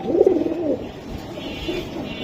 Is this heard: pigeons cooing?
yes